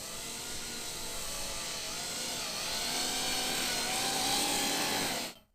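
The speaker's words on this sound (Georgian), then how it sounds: "დაახლოებით ნახევარ გაზზე აფრინდება" A Coanda-effect drone driven by impellers lifts off at about half throttle with a steady, dense whirring whine and shifting tonal hum, close and continuous, then stops abruptly.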